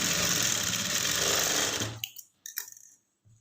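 A sewing machine stitches a blouse cup in a tailoring studio, running in one loud continuous whir for about two seconds before stopping, followed by a few short clicks and bursts.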